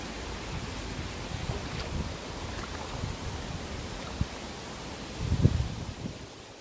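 Steady wind rushes and roars across the microphone on a riverbank in Bath, with low buffeting rumbles throughout and a stronger gust swelling near the end.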